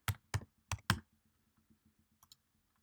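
A computer keyboard being typed on to rename an object, four crisp, close keystrokes in quick succession followed by a few faint, scattered taps.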